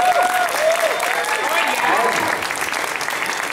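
Steady applause from a crowd at an anime convention's opening ceremony fills the whole stretch, loud and continuous, with a voice speaking faintly underneath.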